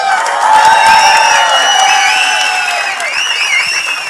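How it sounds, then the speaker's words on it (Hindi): A crowd at a film promotion event for Yamla Pagla Deewana applauds and cheers loudly and continuously, with high whistles and whoops cutting across the steady wash of clapping. "ट्रेलर क्या कहता है, जरा सा ताली बजा के बताओ यार।"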